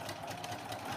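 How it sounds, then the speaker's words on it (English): A sewing machine backstitches fabric for a small gift card holder, giving a brief steady mechanical whir with rapid needle rattle, close and moderately quiet. "I'm going to backstitch"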